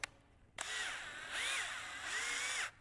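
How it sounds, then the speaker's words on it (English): A power drill whines in three steady bursts, its pitch sliding as the bit bores a pilot hole into an aluminum pot, close by with brief pauses between. "Drill a pilot hole."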